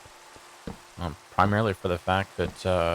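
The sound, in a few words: rain in Minecraft video game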